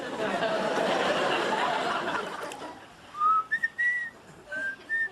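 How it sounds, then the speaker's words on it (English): A person whistles a few short, bright tones in the second half, following a stretch of broad, hissy room noise in a family sitcom scene. "You were whistling."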